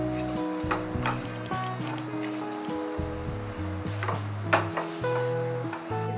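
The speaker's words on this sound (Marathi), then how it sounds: "मी 2 चमचे इतका मैदा घालत आहे, तो व्यवस्थित रोस्ट करून घ्यायचा आहे।" Two spoonfuls of flour roast in melted butter for a white sauce, giving a soft, continuous sizzle with occasional scraping and stirring clicks, close and fairly quiet.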